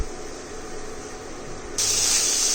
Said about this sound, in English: Now we are going to saute this for around 30 seconds